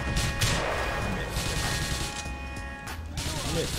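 A loud explosion in Grand Theft Auto IV: heavy crashing bursts and rumbling debris with mechanical clatter, fading into a lingering low rumble.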